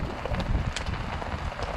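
Steady roaring wind noise at a November campsite, rumbling gusts buffeting the microphone, low and continuous throughout, with faint crackles on top.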